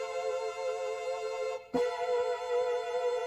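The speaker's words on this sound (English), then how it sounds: "just pick out a saw lead sound and it'll sound like this." A bright, buzzy synthesizer saw lead holds sustained notes, briefly cutting out before a new note starts and rings on steadily.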